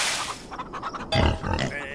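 Pigs on a farm in a farming video game give short, low grunts and snorts, with a louder burst of grunting in the second half.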